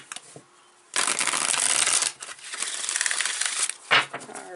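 Tarot cards riffle-shuffled in two long bursts of close, crisp papery rustling, with a short pause between and a brief final flick at the end.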